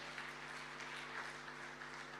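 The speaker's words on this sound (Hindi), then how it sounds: "ज़रा झूम के तालियों के साथ इस्तकबाल कीजिए" Audience applause at a Hindi-Urdu poetry gathering welcoming a poet, a steady dense wash of clapping that stays even and fairly loud throughout, over a constant low hum.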